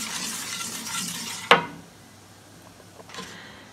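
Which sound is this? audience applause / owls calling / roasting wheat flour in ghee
roasting wheat flour in ghee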